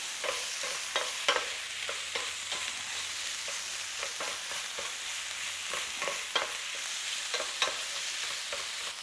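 Small crayfish pieces fry in a hot pan with a constant close sizzle, stirred now and then with repeated scraping clicks and taps throughout, with no speech.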